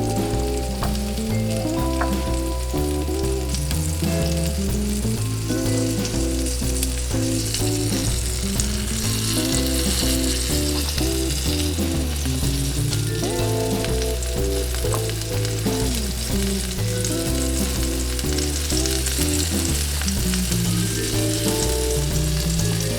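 Chicken fries in olive oil in a skillet with a constant dense sizzle and crackle, loud and close, unbroken for over twenty seconds with no talking.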